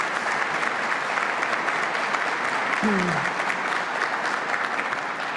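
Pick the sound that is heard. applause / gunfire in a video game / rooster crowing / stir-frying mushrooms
applause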